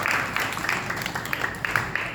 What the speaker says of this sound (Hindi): एक बार पुनः जोरदार ताली से स्वागत श्री महाराज जी